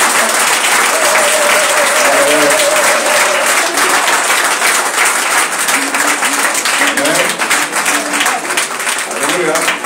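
A church congregation applauds loudly and steadily throughout, a dense roar of clapping with crowd voices and faint music tones mixed in.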